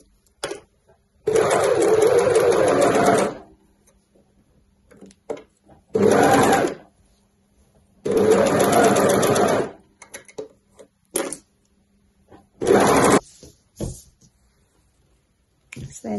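A sewing machine stitches a seam on a velvet T-shirt in loud bursts, four long runs and several short ones, separated by quiet pauses.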